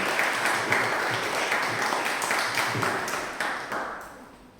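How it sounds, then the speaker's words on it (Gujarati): An audience bursts into applause to welcome a speaker at a world record attempt event, a dense, sustained wash of clapping that slowly thins and fades toward the end. "તાળીઓથી વધાવી દઈએ રિદ્ધિબેન"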